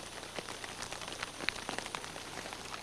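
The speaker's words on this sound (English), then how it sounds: "The morning brought pouring rain." Pouring rain falls on a morning in the Alps. It makes a dense, even patter with scattered sharper drop hits and no break, at a moderate level.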